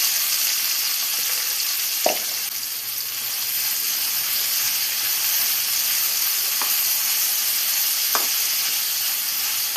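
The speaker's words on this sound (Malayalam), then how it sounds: "സവാള എല്ലാം നല്ല ഗോൾഡൻ ബ്രൗൺ കളറാവുന്നവരെ നന്നായി തന്നെ ഇതൊന്ന് വഴറ്റിയെടുക്കണം." Six medium onions sautéing in a pan for a green pea egg masala, a steady close sizzle and hiss with a few soft clicks of a spoon stirring, no voices.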